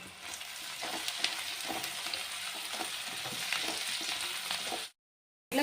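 Cashews, roasted gram, garlic, bay leaves and whole spices fry in hot oil in a pan for a Chettinad tomato curry, giving a steady close sizzle with occasional stirring scrapes, then cutting to silence near the end.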